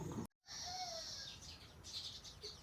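Sparrows chirp around their nests at a temple, faint, high twittering calls scattered over a soft background hiss after a brief cut to silence.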